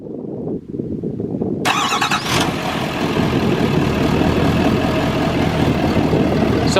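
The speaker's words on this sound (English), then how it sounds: "So let's go ahead and start the truck up." A 2020 L5P Duramax diesel truck fitted with a compound turbo cranks and fires up loudly nearby, then settles into a steady, rumbling idle.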